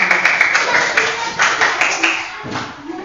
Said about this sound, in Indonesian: Tepuk tangan untuk Dani.